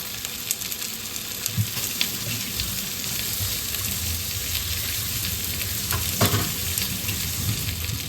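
A fish galette frying in a pan gives a steady, bright sizzle and crackle at close range, with occasional small clinks and stirring sounds over the top and no voices.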